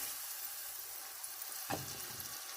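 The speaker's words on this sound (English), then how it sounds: "we're gonna saute those in the butter" Leeks and green onions sauteing in butter in a pan, a steady soft sizzle throughout with a brief stir or clatter partway through, close and fairly quiet.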